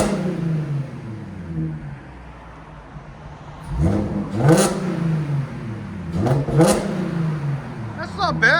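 A 2013 Audi S4 with a 3.0L supercharged V6, AWE cat-back exhaust and Vibrant resonators, idling and then revving in two rising throttle blips, close and clear, with people talking around it.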